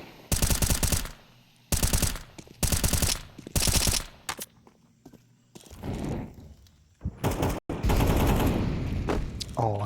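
Loud bursts of rapid automatic gunfire from a Counter-Strike pro league match between BIG and Complexity, several sharp volleys separated by short gaps, mixed with game effects and shouting players.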